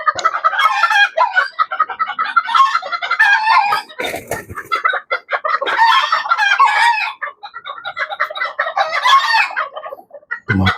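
Chickens cluck busily and continuously near a coop, several hens calling over one another in dense, overlapping bursts with a brief pause midway.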